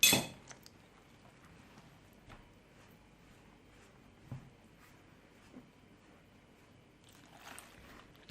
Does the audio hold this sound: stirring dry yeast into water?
yes